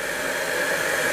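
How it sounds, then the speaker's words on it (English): A hair dryer blowing on a freshly applied first layer of Ammo Mig Dunkelgelb model paint, a loud, steady airy whoosh held close for about a second. "or use a hair dryer"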